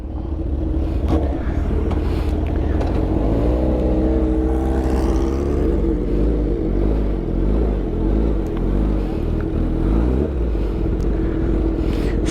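A red Suzuki K7 750 motorcycle engine idles with a deep rumble, then revs up and down in several steady swells, close and continuous with wind buffeting; no talking.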